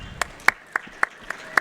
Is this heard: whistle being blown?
no